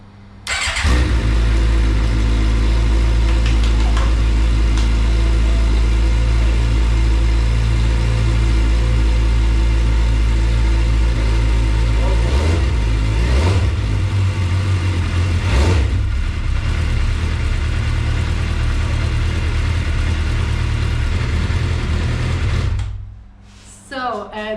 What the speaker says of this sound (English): The engine been running for a few minutes now.